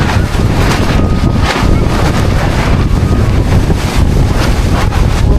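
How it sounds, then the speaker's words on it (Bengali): A violent Kalbaishakhi storm wind roars over the Jamuna river at Char Durgapur, buffeting the microphone in a loud, continuous, gusting blast with no pauses. "কথাও বলতে পারছি না, এত পরিমাণে বাতাস।"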